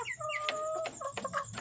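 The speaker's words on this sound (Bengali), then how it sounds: "এই যে এগুলো হচ্ছে আমার দেশি মুরগি, এটা মোরগ।" Desi hens and a four-month-old rooster cluck in quick, irregular bursts close by, several short throaty calls overlapping in a brief flurry.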